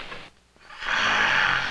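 A man snores in a single drawn-out breath, a brief quiet pause followed by a loud, raspy, close inhale that holds steady to the end.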